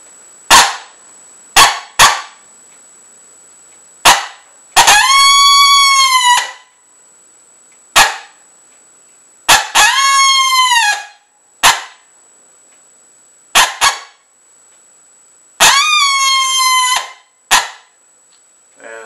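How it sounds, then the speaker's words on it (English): A handmade brass predator call blown in a drawn-out challenge howl: three long, wavering, rising-and-falling cries, each led by a few sharp short blasts, loud and close with silent gaps between. "this is what I call a challenge howl"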